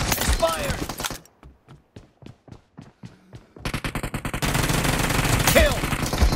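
Gunfire in PUBG Mobile during a team match, dense bursts of automatic shots at the start and end with a run of separate single shots in between, loud and close.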